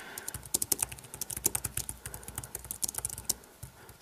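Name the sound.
typing on Logitech Ultrathin keyboard for iPad mini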